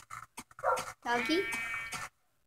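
A new pet dog whimpers in a few short, high-pitched whines, fairly close and quiet, mixed in with a person talking to it.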